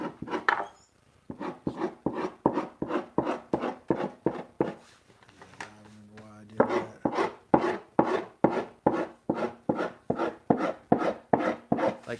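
A hatchet scraping along wood in a workshop, a long run of rapid rhythmic rasping strokes, close and clear, with a brief pause and a low knock partway through.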